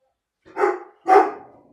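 A dog barks twice, two separate loud woofs about half a second apart, close by, with silence between them.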